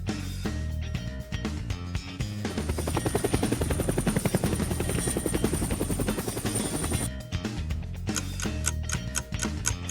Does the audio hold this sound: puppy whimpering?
no